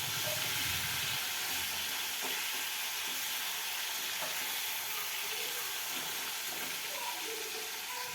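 Fish sizzling in hot oil in a pan as a home cook returns it to the pan and flips it; continuous close hiss and crackle, with a brief deeper clatter at the start.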